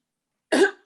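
A single rough cough bursts out abruptly in a quiet room, loud and close, with a wet, raspy texture that trails off quickly.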